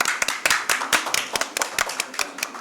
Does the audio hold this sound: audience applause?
yes